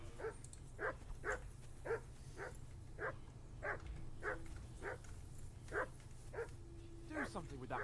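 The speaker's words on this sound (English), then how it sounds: "Do something with that mutt, Henry. It's doing my head in." A dog in Kingdom Come: Deliverance 2 barks in a steady run of about a dozen sharp yaps roughly every half second, faint and somewhat distant over a low background hum.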